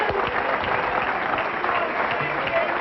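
Spectators at a pro bowling match during the 1997 Bayer Brunswick Touring Players Championship clap and cheer loudly, keeping up an unbroken wall of applause.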